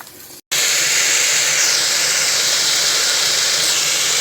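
Vegetables hitting a hot pan for vegetable biryani, a sudden loud, steady sizzling hiss that bursts in after a brief pause and holds strongly throughout.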